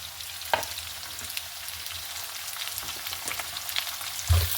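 Garlic peels, green chillies and curry leaves sauté in a pan with a soft, steady sizzle, punctuated by a few distinct thuds and scrapes of stirring, fairly quiet and close, with no speech.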